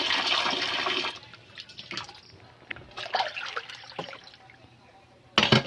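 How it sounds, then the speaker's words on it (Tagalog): Water pours into a container for homemade bean sprouts (togue) in a kitchen: a broadband splashing gush for about a second, then quieter dribbles and trickles, and a final short splash near the end. "Kailangan mas marami yung tubig para umibabaw. So, dadagdagan ko pa."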